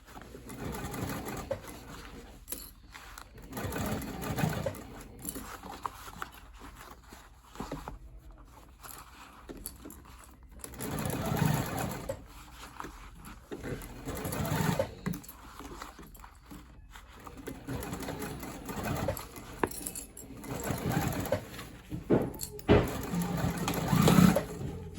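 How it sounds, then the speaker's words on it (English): A sewing machine runs stay stitches at the points of a back pocket on a crossbody bag, in repeated short bursts of rapid stitching separated by pauses, with faint bird cooing at times. "I just add stay stitches to the pocket points"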